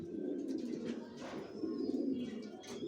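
Racer pigeon chicks from a pigeon loft cooing in soft, overlapping murmurs that carry on steadily and close by for about three seconds, with no talking.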